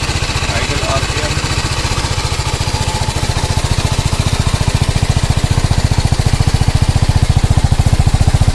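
A 2022 TVS Apache 310 motorcycle idles with its exhaust thumping in a fast, even pulse, loud and close, holding steady the whole time with no revving.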